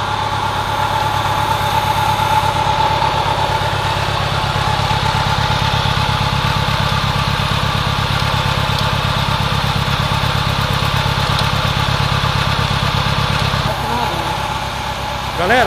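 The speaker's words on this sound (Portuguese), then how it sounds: "No vídeo vocês vão escutar alguns barulhos, mas o motor não está batendo." A car engine runs steadily after a metal conditioner test, close and loud. It holds one continuous, even idle with a low throbbing pulse and no break for the whole stretch.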